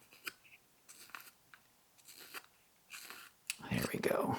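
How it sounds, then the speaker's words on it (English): A carving knife cuts into a wooden snowman ornament, making a stop cut and removing a small chip: a series of short, dry scraping slices spaced apart, ending in a louder, denser stretch of crunchy cutting. "we'll take our knife, make a stop cut there, and remove that there"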